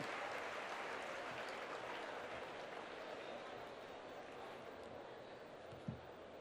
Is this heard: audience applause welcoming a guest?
yes